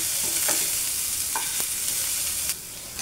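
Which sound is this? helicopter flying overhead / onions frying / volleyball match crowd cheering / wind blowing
onions frying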